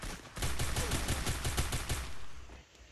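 Rapid bursts of gunfire from the video game Counter-Strike, a dense run of sharp repeated shots, loud and close, that fades off toward the end with no talk over it.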